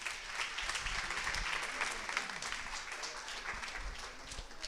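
Steady applause from an audience for a speaker at a hospital conference on traditional medicine and complementary therapies, moderately loud and even across the whole stretch.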